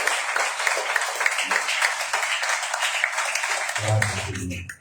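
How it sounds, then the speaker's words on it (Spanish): Church congregation applauding together during a worship service, a steady broad wash of many hands clapping that fades out near the end. "Dale un aplauso."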